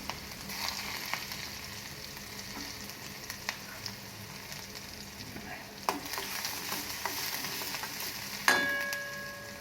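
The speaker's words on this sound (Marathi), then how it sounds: "जिरे आणि मोहरी घातली आहे आणि हिंग घातला। थोडासा कांदा घालते" Onion sizzles in hot oil with cumin, mustard seeds and asafoetida, a steady frying hiss with occasional stirring scrapes and a sharp clink near the end.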